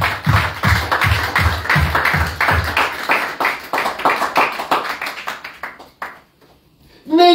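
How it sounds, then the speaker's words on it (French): A congregation at a Sunday church service claps in rhythmic, even beats, close and fairly loud, then the clapping thins out and fades, leaving a brief near-silence before a voice returns. "Applaudissez d'abord."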